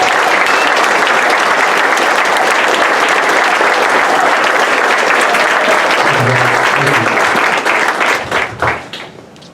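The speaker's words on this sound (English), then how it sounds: "Please give a big round of applause to the TBS baseball team." A school audience at an end-of-year awards ceremony gives the baseball team a loud, sustained round of applause that fills the room for about eight seconds before tapering off.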